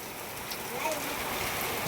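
Night storm rain pours with a broad rushing hiss in Lathidad village, Botad district, wind gusting through it, and faint voices murmuring underneath.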